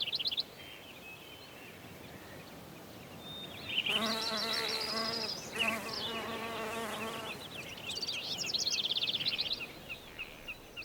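A bumblebee flies close by in a stretch of buzzing that starts and stops, its hum rising and fading with a few brief higher chirps or tweets in the background.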